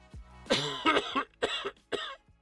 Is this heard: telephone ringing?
no